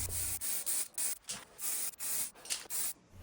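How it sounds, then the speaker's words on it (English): Etch primer sprayed in a series of short hissing bursts of roughly half a second each, separated by brief pauses, onto metal parts being finished for an Art Deco style cabinet. "give them a good coat of etch primer"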